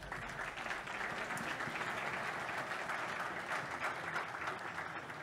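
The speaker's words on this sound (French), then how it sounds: "Des applaudissements" Audience applause at an awards evening, a sustained, even wash of many hands clapping together, fairly distant and steady throughout without voices standing out.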